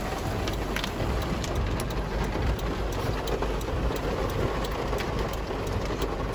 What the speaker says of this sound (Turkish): Of bayağı yağıyor ya.